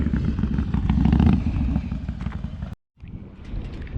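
A Harley-Davidson Sportster motorcycle, a heavy 900 lb bike, rumbles loudly up close with a steady low engine roar and wind buffeting, dropping out briefly before resuming.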